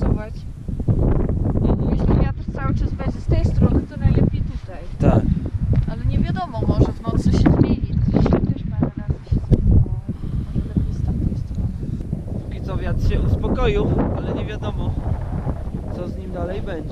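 Cold wind blows at a high-altitude bivouac at 4,125 metres in the Pamir mountains, buffeting the microphone in loud, gusty, irregular rushes throughout, with a voice talking over it.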